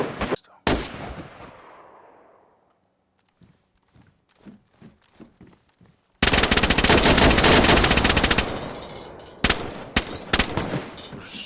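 Video game gunfire: a sharp shot and decaying crack at the start, scattered faint game noises, then a loud sustained burst of rapid automatic fire for a couple of seconds, followed by a few more close, loud shots.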